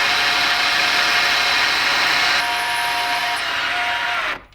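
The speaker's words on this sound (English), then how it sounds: "I'm gonna drill down, and then we're gonna mill a slot." A drill and milling cutter work a slot into a piece of silver held in a vise, a steady high machining whine with a motor hum beneath, loud and continuous before cutting off abruptly at the end.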